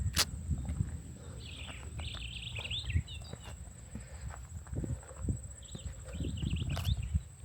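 Birds call in a forest among baobab trees on Zanzibar, a few short chirping bursts rising above a thick layer of footsteps and low rustling, with a thin steady whine running throughout.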